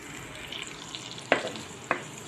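Onions hit hot oil in a clay pot in a village kitchen, with a soft continuous sizzle and two sharp stirring clinks, faint and close.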